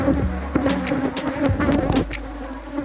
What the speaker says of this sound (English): Me and my Africanized bees right here in the beautiful Caribbean island of Trinidad